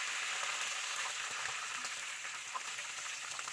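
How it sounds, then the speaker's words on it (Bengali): Chicken pieces fry in a pan for a roast, giving a steady, soft sizzle with faint crackles close by and no talking. "চিকেনটাকে লাল লাল করে ভেজে নিতে হবে"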